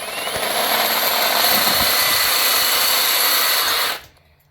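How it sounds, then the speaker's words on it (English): A power drill with a 3/8 bit enlarges bolt holes in a Kawasaki KRX skid plate, a loud, steady high whine running nearly four seconds close by before abruptly winding down and stopping. "drill out the holes so that the"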